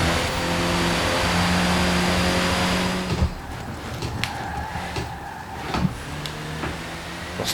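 A rally car in a racing video game revs on super slick tyres, with a loud steady engine drone that cuts off sharply, leaving lower rumbling and scattered clicks.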